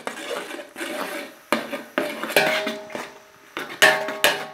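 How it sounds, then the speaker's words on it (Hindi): A metal spoon stirs korma masala with tomatoes in a cooking pot, its scrapes and clinks against the pot coming in firm repeated strokes, close and fairly loud. "मैं थोड़ा सा सख्त हाथ से चमचा चलाऊंगा ताकि हमारा जो ये टमाटर वगैरह है"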